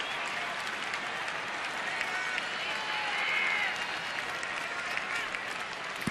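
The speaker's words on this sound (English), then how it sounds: "Crowd's starting to get into it here" A baseball stadium crowd at an Atlanta at Washington game cheers and claps in a steady, broad wash of noise that swells slightly mid-way, with a commentator's voice over it.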